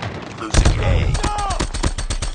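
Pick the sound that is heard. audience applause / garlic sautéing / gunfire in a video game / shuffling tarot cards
gunfire in a video game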